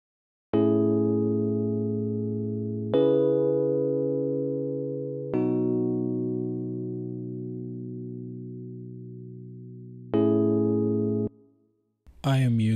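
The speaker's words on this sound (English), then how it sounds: "we start off with the electric piano" Classic electric piano in Logic Pro X playing a slow sequence of four sustained chords, each struck cleanly and left to ring and fade, with a brief voice at the very end.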